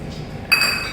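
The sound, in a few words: egg omelette mixture clinking in a small glass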